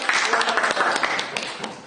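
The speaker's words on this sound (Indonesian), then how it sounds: "Tepuk tangan buat." A classroom audience claps together after a student presentation, a brief burst of scattered, moderately loud clapping.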